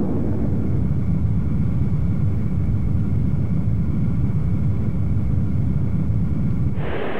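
Goddard liquid oxygen and gasoline rocket engine test firing, a loud, steady, dense roar with deep rumble that holds constant throughout, with a slight shift in tone at the very end and no voices.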